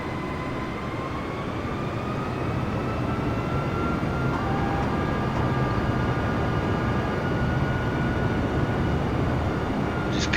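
Airplane flying in Microsoft Flight Simulator 2020, a steady, loud engine drone with faint rising tonal whines, held level throughout with no talking.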